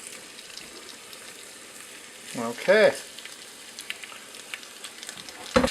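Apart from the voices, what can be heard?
beef sizzling in pressure cooker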